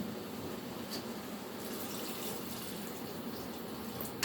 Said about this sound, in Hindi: और ये थोड़ा सा पानी